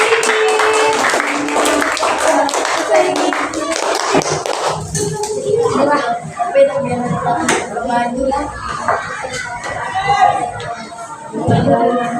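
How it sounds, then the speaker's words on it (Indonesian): A classroom of children claps for a group, a loud burst of applause at the start that fades into crowd chatter and voices, with a few more claps later. "Tepuk tangan untuk kelompok"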